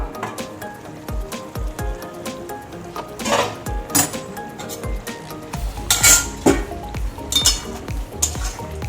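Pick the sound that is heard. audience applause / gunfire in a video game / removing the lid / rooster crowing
removing the lid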